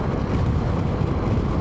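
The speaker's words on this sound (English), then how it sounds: "And it is very windy" Steady, loud wind buffeting the microphone while riding a Honda NC750X motorcycle on a motorway, a dense continuous low roar with no break and no speech.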